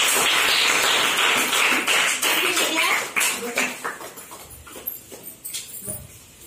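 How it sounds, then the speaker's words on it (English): Classroom of eighth-grade students clapping for classmates, a burst of dense applause that thins into scattered individual claps and fades out, with a voice heard briefly. "you give a great applause for them."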